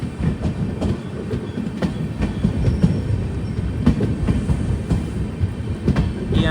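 Ernakulam–Velankanni weekly express sleeper train rolls along the line near Aryankavu, its wheels clacking in a rhythmic series over a continuous heavy rumble heard from inside the coach.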